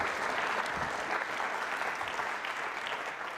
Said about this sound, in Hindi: तालियां बजाइए एक बार फिर आप